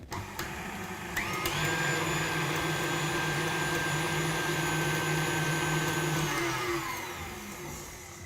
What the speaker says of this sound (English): So it goes back in and it just needs to be whisked in.